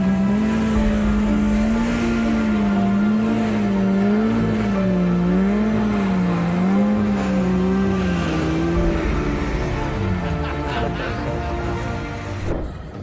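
A Subaru car engine strains while towing, its revs rising and falling in wavering, wobbling tones over a steady motor drone, loud and close, easing off near the end.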